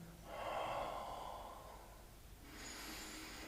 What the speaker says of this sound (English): Noticing that you are breathing still through the nose.